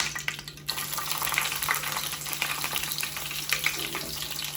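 Curry leaves and garlic dropped into hot oil in a home kitchen pan for a dried-fish dish, crackling and sizzling steadily with a faint spatter, the frying close by and continuous.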